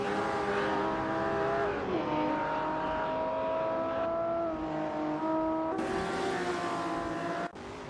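Supercars race around a speedway in a video game, with layered engine tones rising and falling in pitch as cars accelerate and shift, loud and continuous throughout, with one car sweeping past near the end.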